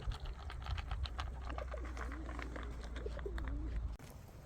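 Pigeons coo in a forest, soft warbling calls rising and falling over a low steady hum, with no talk.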